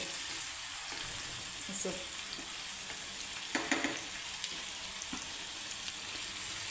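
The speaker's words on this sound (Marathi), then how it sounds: "मीडियम गॅसवर व्यवस्थित असं सगळं साहित्य एक एक करून आपण काय करायचं ते भाजून घ्यायचं" Spices dry-roasting in a pan over a medium gas flame, a soft steady sizzle with occasional scrapes and light rattles of stirring, and a brief spoken word in the middle.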